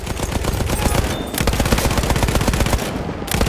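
Rapid machine-gun fire in a World War 1 shooter game rattles steadily and loudly for the whole stretch, dense and unbroken, with no talking over it.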